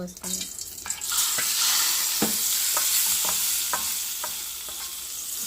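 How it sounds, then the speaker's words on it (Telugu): Sesame seeds for chutney sizzling loudly in a hot pan, a dense continuous hiss with repeated sharp clicks and scrapes of stirring close by, no voices. "ఈ తాలిం గింజలు అనేవి బాగా ఫ్రై అయినాయి కదండి చట్నీలో"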